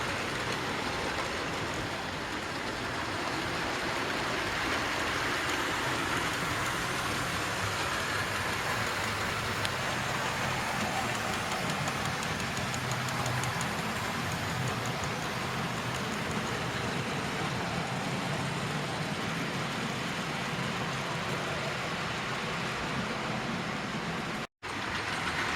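A small Terrier tank locomotive with a little wagon running on a loft model railway, giving a steady continuous rumbling whir that stays even in level for the whole stretch, with no talking.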